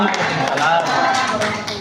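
Applause from an audience at an Indonesian school or teacher event, a dense patter of many hands clapping steadily and close for about two seconds with no pause.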